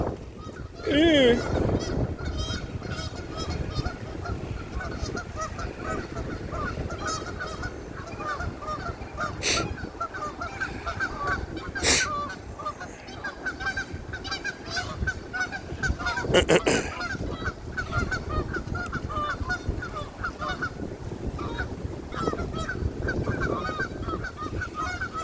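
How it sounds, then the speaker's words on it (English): Canada geese honk repeatedly by a creek, loud and near, with overlapping calls and occasional sharp blasts standing out over a steady background. "Canadian geese and their arguments."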